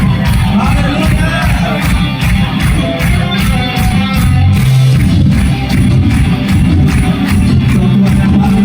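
A church congregation at a worship service claps and cheers loudly and steadily, with voices and shouts mixed into the sustained applause.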